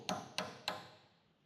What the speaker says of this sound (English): we'll just take a skinny punch with a hammer